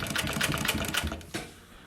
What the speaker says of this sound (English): this machine sounds like not a sewing machine, but a group of horses that is walking down the road